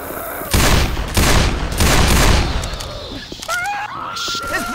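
Gunfire in the zombie shooter Left 4 Dead on the Dark Carnival campaign, loud bursts of rifle and shotgun fire in several volleys, then fading as tonal game sounds and a voice come in.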